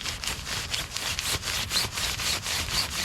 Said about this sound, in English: the mat's made from polyester and so is the tent, and when they rub together